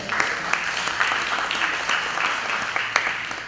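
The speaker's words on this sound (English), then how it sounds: "And that's good, and that's worth applause." A church audience at a presentation breaks into steady, moderately loud applause, a dense patter of clapping with a few sharper claps standing out.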